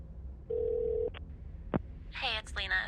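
A phone places a call: a steady dial tone runs briefly, two short clicks follow, and then a voice starts speaking near the end.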